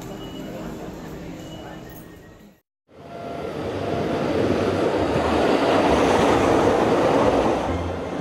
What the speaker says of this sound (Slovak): Zlatý vlak nás vezie k ďalšej rozprávke.